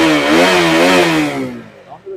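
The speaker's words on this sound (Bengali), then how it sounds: "গাড়ি স্টার্ট করে দাও, বুঝতে পারবে।" An RC200 motorcycle engine starts and revs up close, loud and continuous, with a rising, wavering pitch before the revs drop and fade toward the end.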